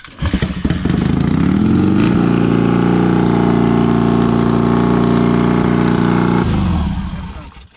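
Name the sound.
motorcycle engine running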